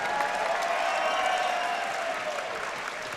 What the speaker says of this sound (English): Ladies and gentlemen, a round of applause, please, for both of the fighters in the center of the cage.